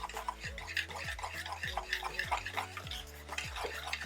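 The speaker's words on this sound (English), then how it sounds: "Now I'll be mixing that together" Flour and cornmeal, sifted together, being mixed in a bowl for a cornmeal pudding: a steady run of soft scraping stirs with light clinks, repeating about every half second, close and fairly quiet, with no talking.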